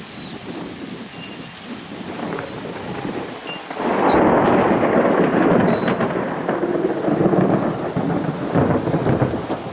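Thunder rolls over a rain-soaked thunderstorm. A steady patter of rain and wind builds into a broad, close, heavy rumble partway through and stays loud to the end. No one speaks.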